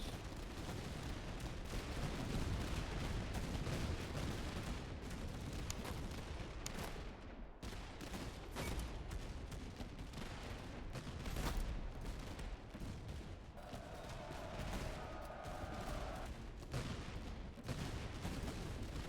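Massed musket and artillery fire in the Napoleonic-era strategy game Master of Command, with a dense, continuous crackle of distant volleys and booms rolling on for nearly twenty seconds.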